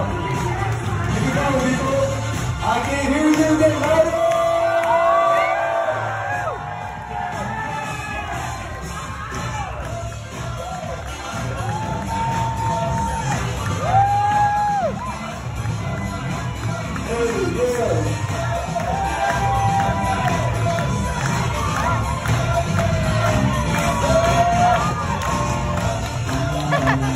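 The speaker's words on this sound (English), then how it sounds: "I can't hear you, get louder!" Wedding guests at a reception in Jersey City, NJ cheer and whoop as a crowd, a loud, sustained hubbub of voices with shouts rising and falling throughout.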